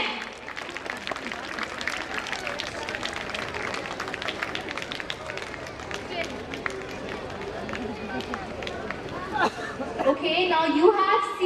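An audience at a school scholarship event in Kanpur claps and cheers for students. Dense, steady applause and crowd noise build toward louder cheering at the end.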